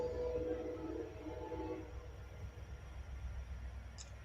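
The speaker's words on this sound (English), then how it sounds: "Sorry, train coming through. I hear a train a coming." A train passes nearby. Its low rumble and rolling rail noise hold at a moderate level, with a louder tonal hum in the first two seconds that then fades into a steady background drone.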